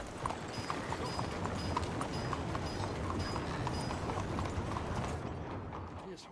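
Hooves of a thin horse clip-clopping in the Red Dead Redemption 2 video game, a steady regular beat of distinct clops over a low rumbling background, fading toward the end.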